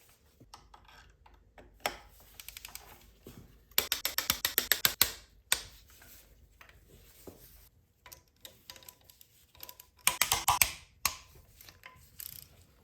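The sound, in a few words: torquing down engine head bolts with T60 bit on ratchet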